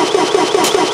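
A car engine in the BeamNG driving game cranks with a rapid, even pulsing chug of the starter, loud and close, with no one talking.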